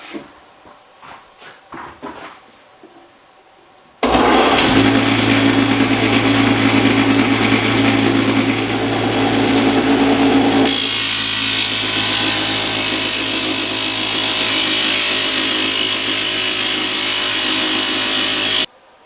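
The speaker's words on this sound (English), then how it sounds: "I finished my thickness sanding" A loud thickness sander roars steadily for about fifteen seconds after a few quiet knocks, sanding guitar wood for a dreadnought guitar, its grinding whine shifting pitch midway before cutting off.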